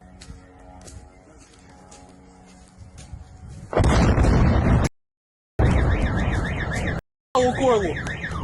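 After a quiet stretch, loud booming blasts erupt in bursts, with brief silent gaps between the heavy explosive roars.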